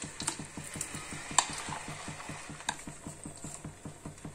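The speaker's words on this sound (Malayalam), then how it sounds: "നെയ്യിൽ കിടന്ന് ഈ പഴം ഒന്ന് വരട്ടിയെടുക്കണം." Banana halwa mix fries in ghee in a pan while a spoon stirs it without stopping. A soft sizzle runs underneath a steady rhythm of close scraping strokes, about four a second, with no talk.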